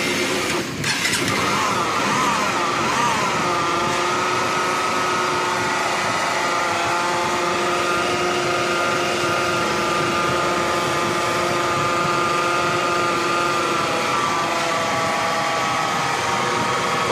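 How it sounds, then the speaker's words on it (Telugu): Honda Unicorn motorcycle engine idling with a rough worn-bearing sound: a continuous, steady mechanical drone with a grinding, whining edge, close and unbroken throughout. "విన్నారు కదా ఇంజిన్ రఫ్ సౌండ్"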